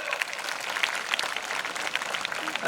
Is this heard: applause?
yes